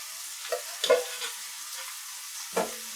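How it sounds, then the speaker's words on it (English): Steamed potatoes dropped back into a hot frying pan set off a soft sizzle with a few scraping, clattering bursts as they land and shift, one near the start and another later, without any talking. "this is the step where I'm going to add the steamed potatoes back in the pan"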